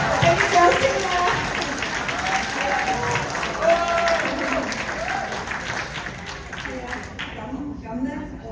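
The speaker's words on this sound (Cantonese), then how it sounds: "俾掌聲啊！" An audience applauds during a stage presentation, with a steady wash of clapping that lasts throughout and fades slightly near the end, mixed with voices and a faint tonal background.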